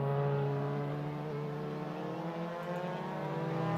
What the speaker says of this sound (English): you can hear the Steyn's car in front of him